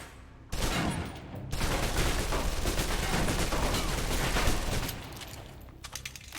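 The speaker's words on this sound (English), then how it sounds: "Now, let's move on to the submachine gun. Now let's empty the clip." Submachine gun in the shooter game Alpha Protocol emptying a full magazine: a dense, continuous burst of rapid automatic fire lasting several seconds, loud and close, with a brief gap near the start before the sustained stream, then tapering off into faint clatter.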